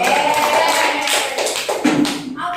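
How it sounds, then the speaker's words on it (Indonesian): A classroom group of students claps for their classmates' group in a short burst of dense, uneven applause, fairly close and loud, with some voices mixed in. "boleh tepuk tangan untuk kelompok kami"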